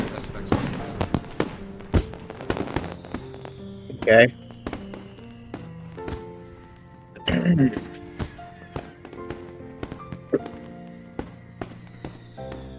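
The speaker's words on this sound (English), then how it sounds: "Both of us stare at the fireworks fixedly through the canopy of the trees, followed by the show." Game fireworks from the Katawa Shoujo visual novel sound as repeated sharp pops and crackles with louder bursts, heard alongside a voice talking briefly.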